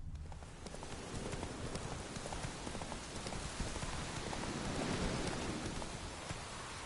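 Hooves of the horse Roach clip-clop steadily through steady rain in The Witcher 3, a continuous rhythmic trot under a dense wash of falling water, with no voices.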